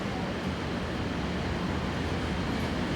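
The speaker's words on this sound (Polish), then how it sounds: "A zefira dzisiaj prowadzi lokomotywa" Zefir passenger train hauled by a PKP Cargo EP07 electric locomotive in Kraków, heard as a steady, loud rolling rumble of wheels and carriages passing close by, continuous throughout.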